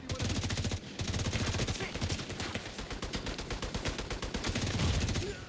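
Sustained light machine gun fire from The Division 2, a dense rapid burst of shots running almost the whole time, loud and close, with only a brief pause near the start.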